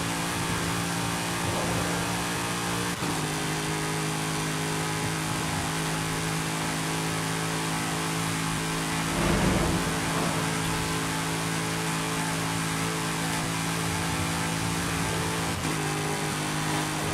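A car engine in Forza Horizon 5 holds a steady, loud high-gear drone at very high speed, its pitch briefly shifting around the shift points, with no talk over it.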